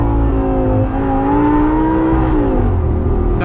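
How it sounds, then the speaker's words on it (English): A supercharged Lamborghini Gallardo Spyder engine drops through downshifts with rising blips of revs and a whining, harmonic roar, heard close from inside the car, loud and continuous with no talk. "Listen to these downshifts."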